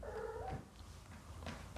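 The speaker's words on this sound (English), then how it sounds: "I think my cat is confirming me by making these funny noises." A pet cat makes odd, drawn-out vocal noises indoors, a quiet wavering cry followed by softer murmuring sounds, close by and with no talking.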